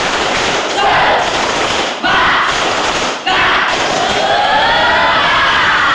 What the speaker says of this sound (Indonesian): mari bersama-sama kita tepuk semangat terlebih dahulu ya